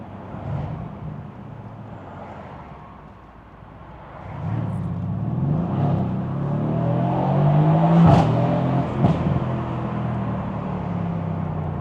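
A Mercedes-AMG C63 S V8 rear-wheel-drive engine revs and accelerates, its roar climbing and swelling loudly with brief gear-change dips, no talking.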